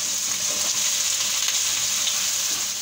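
Half a kilo of mutton frying in oil with garlic and ginger paste for bhindi gosht, a steady loud sizzle with faint stirring throughout.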